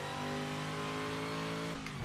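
GT race car engine in the Project Motor Racing video game on PS5, a loud sustained high rev with strong harmonic tones that drops off sharply near the end, no voices.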